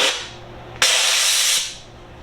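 A high-pressure steam cleaner sprays a sticky stovetop, giving a loud continuous hiss that fades, then bursts back louder for under a second and tapers off again.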